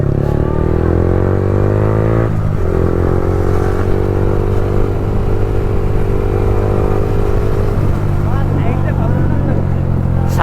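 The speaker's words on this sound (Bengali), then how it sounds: "ভাই সুপার বাইক চলে এসেছে, সুপার বাইক।" A fully modified Yamaha R15 motorcycle being ridden: a loud, steady engine drone close by, with its pitch shifting as the engine changes speed partway through.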